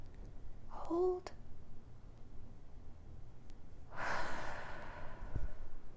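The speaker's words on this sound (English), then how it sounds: "Sorry, I breathed out before." A single person exhales in a long, breathy rush during a guided breathing exercise, loud and close. It comes after a brief voiced sigh-like sound and a short click.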